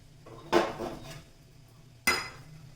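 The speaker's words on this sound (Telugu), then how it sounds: "ఎల్లుల్లిపాయలు కొంచెం కట్ చేస్తాను, బాగా పెద్దగా ఉన్నాయి" A knife cuts large garlic cloves on a board, two sharp chopping knocks about a second and a half apart, the first followed by a brief scraping rattle.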